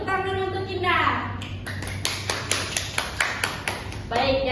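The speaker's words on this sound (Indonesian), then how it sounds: "Baik, tepuk tangan untuk Indah." Classmates in an Indonesian school lesson on cultural diversity clap for a student, a short burst of a few sharp, sparse claps over a steady room murmur, with the teacher speaking just before and after.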